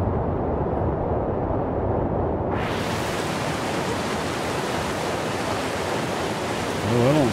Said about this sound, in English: Well, I don't see anything behind that waterfall.